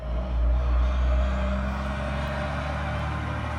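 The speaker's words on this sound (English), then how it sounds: "I know y'all heard the loud trucks outside." Loud trucks passing outside, a continuous heavy low rumble of engines that swells slightly and then holds steady throughout.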